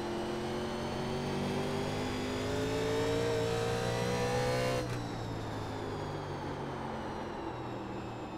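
A NASCAR Legends 1987 race car engine in iRacing at North Wilkesboro climbs steadily in pitch under power, then shifts abruptly and settles into a lower roar, steady and alone without talk.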